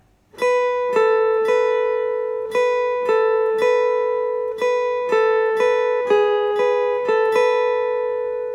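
Clean plucked acoustic guitar notes picked one after another in a steady melodic line, a song intro, each note ringing briefly, close and clear with no voices.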